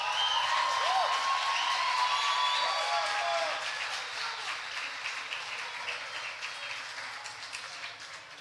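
An audience claps in welcome for a guest, a broad wash of applause that is loudest at first and then slowly fades, with a few whistles and chirpy tones over it.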